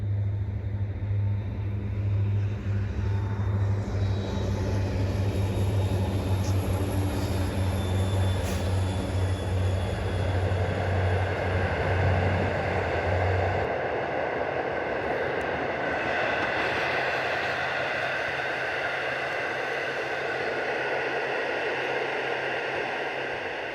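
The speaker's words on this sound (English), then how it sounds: "Here comes a pellet train, iron ore taconite pellets." A long freight train carrying iron ore taconite pellets rumbles past nearby in Minnesota, a steady broad roar with a low hum that fades partway through, continuing throughout without voices.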